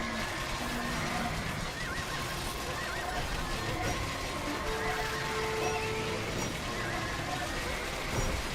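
Horses neigh and whinny in a video game, several calls standing out over a steady bed of game noise, with some faint hoof clatter and no voices.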